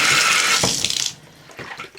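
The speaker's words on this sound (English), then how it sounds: "I'm going to turn the water on," Tap water gushes loudly into a bathtub onto a cutting mat, a steady broadband rush that cuts off abruptly about halfway, followed by fainter splashing and dripping.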